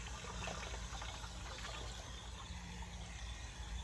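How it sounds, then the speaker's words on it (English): Water being added to a plastic jug for mixing fish emulsion, a steady, splashy trickling and gurgling pour that runs continuously for a few seconds, nearby and quiet, no talking. "And then I'm gonna go ahead and add water."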